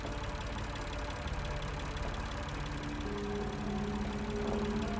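A diesel generator in a shed in the game Lost Horizon drones steadily with a low, rumbling hum and knocking undertone, its pitch shifting slightly partway through, with no voices.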